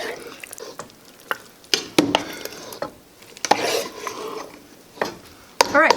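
A spoon stirs thick razzleberry pie filling in a pot, making repeated scraping clinks against the metal with soft sloshing in between. The sounds are close and irregular, with no talk.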